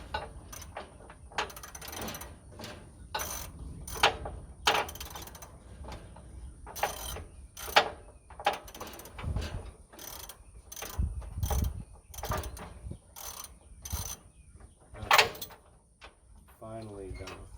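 A bolt is worked loose on a 1959 Cadillac, heard as a rapid ratchet wrench clicking in short bursts with metallic clanks and knocks, fairly quiet, while a person talks at times.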